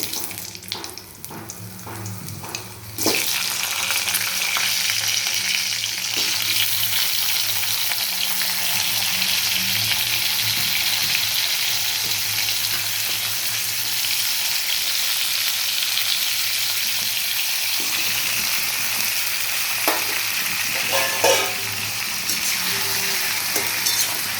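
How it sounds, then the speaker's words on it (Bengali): Vegetables fry in a hot pan with bay leaf and whole garam masala, a loud, continuous close sizzle that swells after a brief quieter start, with occasional stirring scrapes and no voices. "সবজিগুলো ভাজা ভাজা হয়ে গেছে"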